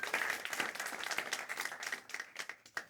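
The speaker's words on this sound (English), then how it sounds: "Can we give him a round of applause, please?" An audience at an academic talk applauds the speaker with dense, steady clapping that carries on for a few seconds and thins out toward the end.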